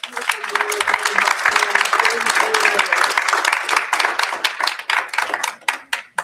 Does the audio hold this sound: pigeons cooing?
no